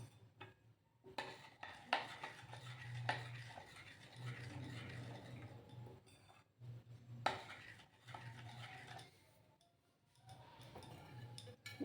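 A spoon stirs semolina batter with milk in a bowl, giving soft, faint clinks and scrapes in an uneven rhythm with brief pauses, close and quiet.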